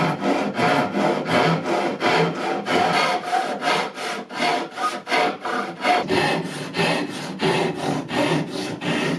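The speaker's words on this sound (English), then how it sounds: "I trimmed the seat panel to size with the rail saw set to 10 degrees to match the back panel." Rail saw cutting a wooden seat panel for an oak chair: a fast, rhythmic series of loud rasping strokes, roughly two per second, close up and steady throughout with no talking.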